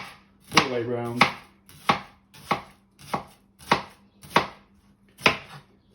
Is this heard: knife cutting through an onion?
yes